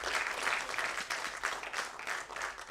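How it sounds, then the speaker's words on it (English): Guests at the stock-exchange listing ceremony of Western Carriers (India) Limited applaud, a moderate, fairly distant wash of many clapping hands that swells and dips in gentle waves. "A big round of applause."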